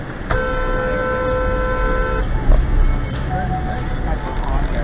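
Car horn honking in traffic at a car running a red light, one sustained blast of about two seconds heard close over road noise and engine rumble.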